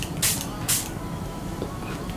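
Clean water misted from a small spray bottle onto tissue pressed over lipstick-covered lips, two short, close pumps about half a second apart over a quiet background.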